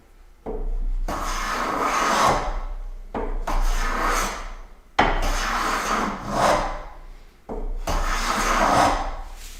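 A hand plane takes long wood shavings in four steady strokes, each a loud, close rasping swoosh separated by brief pauses.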